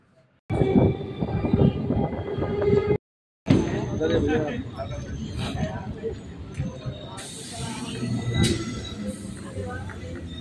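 A passenger train pulls out of a station on the Barasat to Hasnabad line, its steady rolling rumble and rattle close and continuous, with a short gap of silence early on and faint voices mixed into the noise.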